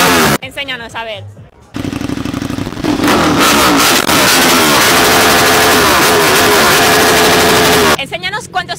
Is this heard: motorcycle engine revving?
yes